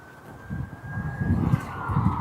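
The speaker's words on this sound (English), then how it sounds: "Hear a siren going on somewhere towards Lossie." A faint siren wails in the distance near RAF Lossiemouth on a windy day, a thin steady tone held under low rumbling noise, with no voices.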